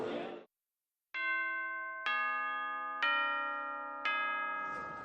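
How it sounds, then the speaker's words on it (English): Brisbane City Hall clock tower chime rings out in four clear, resonant bell tones spaced about a second apart, each ringing on and decaying into the next, with a brief burst of noise before and after. "That chime, that sound that says you're here in Brisbane and that welcomes hundreds of thousands of visitors each year will continue to ring out across the city"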